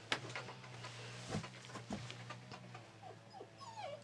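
A dog whines and whimpers faintly in a quiet indoor space, with short high yips and whimpers scattered through and a cluster near the end, over a low steady hum.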